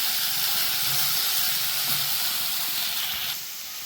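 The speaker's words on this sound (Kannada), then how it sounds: "ಟೊಮೊಟೊ ಸ್ವಲ್ಪ ಸಾಫ್ಟ್ ಆಗೋವರೆಗೂ ಈ ಮಸಾಲಾನ ಫ್ರೈ ಮಾಡಬೇಕಾಗುತ್ತೆ" Tomato and masala fry for mutton chops with a loud, close hiss and steamy sizzle that holds steady, then eases off slightly near the end.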